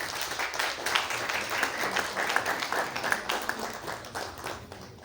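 A crowd at a diploma presentation ceremony applauding steadily, many hands clapping at once in a dense, sustained wash of sound that tapers slightly at the end.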